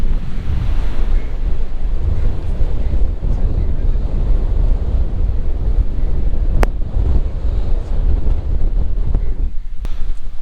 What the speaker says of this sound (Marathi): कारण की आता वारा भरपूर आहे.